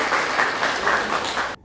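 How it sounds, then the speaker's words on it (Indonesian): A classroom group applauds a classmate, a short burst of close, even clapping that stops abruptly after under two seconds. "tepuk tangan untuk teman kita"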